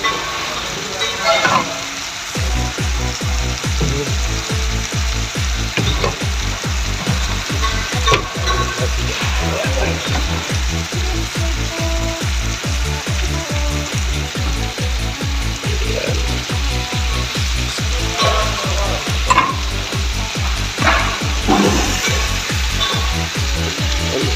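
Bitter gourd (ampalaya) sizzles loudly in a hot pan of adobo while a utensil scrapes and stirs in a steady, repetitive rhythm, close up, with occasional voices underneath.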